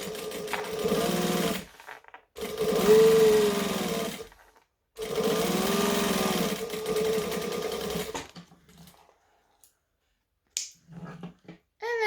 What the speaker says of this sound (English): And then I'm going to back stitch.